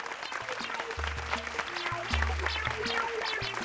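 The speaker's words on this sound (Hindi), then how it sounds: "बच्चों बजाओ जोर से ताली" A group of children claps loudly at the end of a magic trick, giving a dense burst of applause over soft musical notes.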